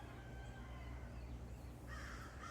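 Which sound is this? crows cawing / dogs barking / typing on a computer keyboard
crows cawing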